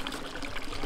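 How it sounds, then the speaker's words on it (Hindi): Water pours and trickles briefly outdoors while dishes are washed on a freezing winter trek in Uttarakhand, a soft steady splash heard close by for under a second with no voices. "बर्तन धो रहे उस पानी से भाई जी"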